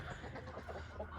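Chickens mutter with soft, low clucking sounds, quiet and close, as they are herded into a hen house.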